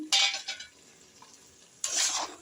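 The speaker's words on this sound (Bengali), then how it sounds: "এবার নেড়ে নেবো এইভাবে একটু" In a Bengali shutki fish dish, a spoon stirs potatoes and eggplant in a pan, two short scraping bursts with a quiet gap between them, close and fairly loud against a near-silent background.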